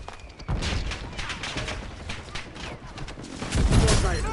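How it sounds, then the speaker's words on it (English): Hostile airstrike explosions in Black Ops 6 battle royale, a dense rumbling barrage of blasts and crackling fire that swells louder near the end. "Hostile airstrike incoming."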